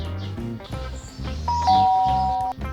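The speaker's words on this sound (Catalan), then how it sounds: "Va tocar el timbre." A two-tone ding-dong doorbell rings in an animated children's story, sounding clearly over soft background music, with a sustained chime tone near the middle of the ring.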